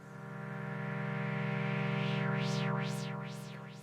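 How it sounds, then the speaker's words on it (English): Roland Gaia synthesizer holding a steady buzzy chord while a filter sweep rises and falls in repeating waves, the vibrato-like motion entering partway through the held note; loud and continuous with no voices. "So we want the vibrating rate to come in after we've pressed the keys down."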